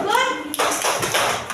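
Children in a first-grade Islamic elementary classroom give a group a rhythmic cheer of quick claps, close and fairly loud, with young voices chattering over them.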